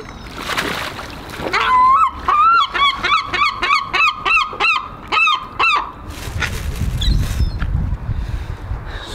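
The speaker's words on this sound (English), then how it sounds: "We're feeding ducks, and it seems seagulls as well." Excited seagulls squeal in a rapid run of loud, repeated cries over splashing water as ducks and gulls are fed bread in Dover, with honking waterfowl mixed in and a gusty outdoor background.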